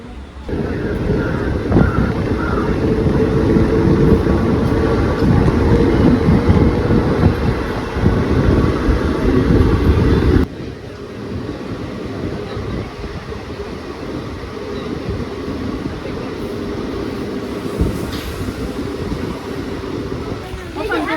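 A passenger train pulling out of Kannapuram railway station on the Trichy to Payyanur run, a loud close rumble and rattle for about ten seconds that then drops abruptly to a quieter steady running hum.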